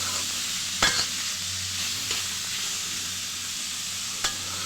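Leafy greens cook in a hot pan with a continuous sizzle and hiss, broken by a couple of sharp scraping knocks of a utensil, fairly close and with no talking.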